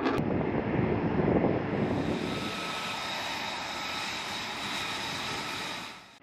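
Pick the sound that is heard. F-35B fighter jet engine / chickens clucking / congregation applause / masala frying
F-35B fighter jet engine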